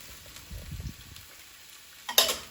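Carrots for japchae, the Korean glass noodle dish, go into a hot oiled pan: soft low thumps and shuffling first, then a sudden sharp burst of sizzling near the end that quickly fades, with no talking.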